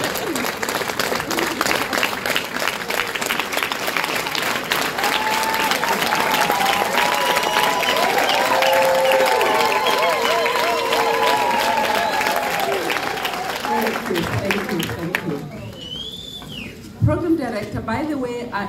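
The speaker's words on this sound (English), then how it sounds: "the former CEO and her team deserve a big round of applause and a standing ovation from all of you" Sustained audience applause and ovation filling a large hall, broad and steady, with tonal cheering voices riding over the clapping before it drops away near the end.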